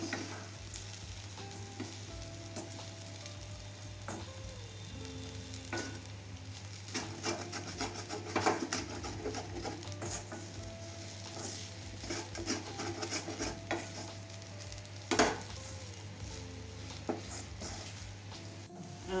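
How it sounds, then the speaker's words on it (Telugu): Okra tossed with peanut powder in a hot pan, continuous close frying sizzle with repeated scraping and rubbing strokes of a spatula, a few sharper knocks against the pan, and no talking. "ఈ పౌడర్ అంతా బెండకాయలు కలిసిపోయే వరకు కొద్దిగా తిప్పండి అండి"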